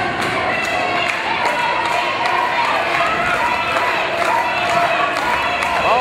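A wrestling crowd at an NWA Mountain State show cheering on Ricky Shane, a dense steady roar of voices with scattered thuds and claps, loud and continuous throughout.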